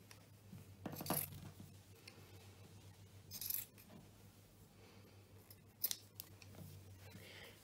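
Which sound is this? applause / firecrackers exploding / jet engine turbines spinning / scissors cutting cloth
scissors cutting cloth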